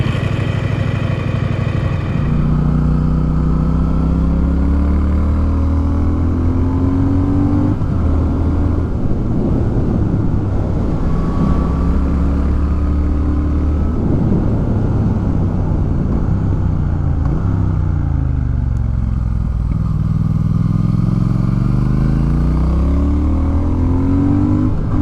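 A Triumph Speed Twin motorcycle on a mountain ride toward Berthoud Pass in Colorado, its twin engine close and loud, revving up and down through gear changes with steady wind rush throughout.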